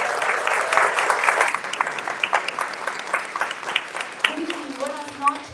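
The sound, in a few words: audience applause for a speaker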